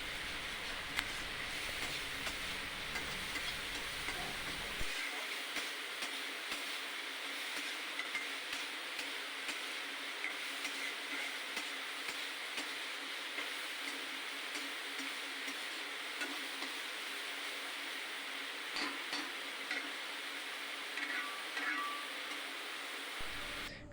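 Prawn pakoras frying in hot oil in a wok, giving a steady, even sizzle and crackle that holds for the whole stretch, with faint scattered pops and small tool clinks.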